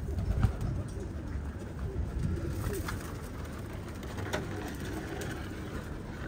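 Pigeons cooing softly at a distance over a quiet outdoor background, a few low repeated coos scattered through several seconds, no talk.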